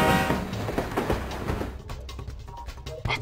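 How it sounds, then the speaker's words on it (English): Train rushing past in the video game Jackie Chan Stuntmaster, played on a Windows emulator on a Mac, a loud dense rumble with rattling clatter that thins out after about two seconds into separate sharp knocks. "I'm gonna get hit by the train."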